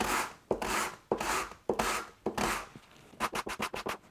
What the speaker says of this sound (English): I'm just gonna sand them just a little bit.